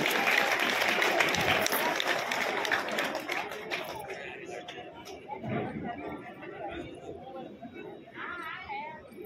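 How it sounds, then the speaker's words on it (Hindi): An outdoor crowd at a Garhwali village fair welcomes a young performer with applause and chatter, loud clapping for the first few seconds that thins out into murmuring voices and talk. "आराध्या रावत एक बार जोरदार तालियों से योग भी स्वागत कर लो"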